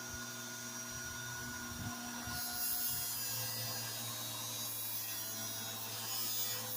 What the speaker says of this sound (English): I'm going to go ahead and buff this